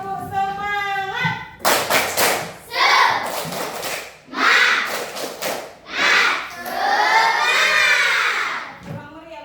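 A school class performs the tepuk semangat rhythmic clapping chant, children shouting the lines in loud bursts between patterned group claps, led by a teacher's voice at the start.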